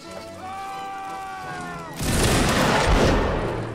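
A volley of musket fire in Mount and Blade Warband Napoleonic Wars: after a stretch of tonal background sound, a massed crash of gunshots erupts at once and then rumbles and crackles on.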